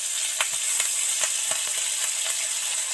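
Ginger paste sizzling in oil in a frying pan for vegetarian khichdi, a constant bright hiss broken by several sharp ticks and spatters, close and alone.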